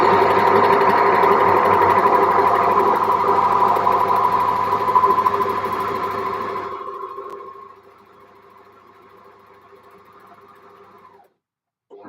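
A sewing machine stitches the neckline of a knit top in a steady, fast whir for about seven seconds, then slows and fades to a faint hum before going quiet.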